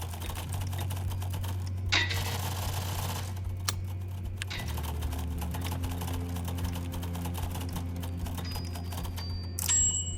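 Keyboard keys clatter in steady bursts during a typing test battle royale game, with a low game music drone underneath and a few sharper clicks near the end.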